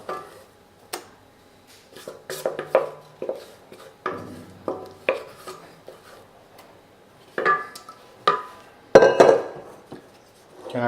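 Whipped cream, beaten soft rather than stiff, being folded into a parfait mixture, with scattered utensil scrapes and clinks against a bowl coming in irregular bursts, close by and moderately loud, no voices.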